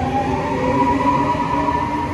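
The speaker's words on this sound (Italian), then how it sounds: "Leggermente diverso il sound di questa E464." An Italian E464 electric locomotive and its train pass close by, a steady loud electric whine with humming tones over continuous rail rumble, running unbroken throughout.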